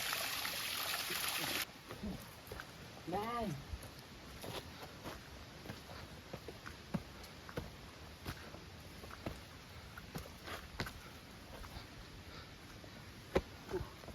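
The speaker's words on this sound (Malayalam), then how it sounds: "ഇവിടെ അരുവിയും കാര്യങ്ങളൊക്കെ ഉണ്ട്" Gentle mountain stream water trickling softly nearby on a trekking trail, with scattered small taps and clicks like footsteps, and a short voice-like sound early on.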